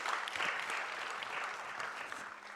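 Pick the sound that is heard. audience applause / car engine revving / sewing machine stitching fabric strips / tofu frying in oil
audience applause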